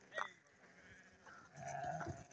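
Sheep for sale bleat in a pen, one short nearby bleat followed by a longer, wavering bleat, faint against a quiet farmyard background.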